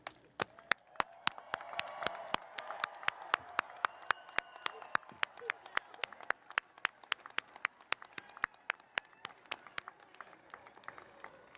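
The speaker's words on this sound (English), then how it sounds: "as we offer one final rousing round of applause for our graduates" An audience at a college commencement ceremony for humanities and social sciences graduates bursts into sustained applause. Dense, steady clapping fills a large space, with sharp individual claps standing out from the crowd.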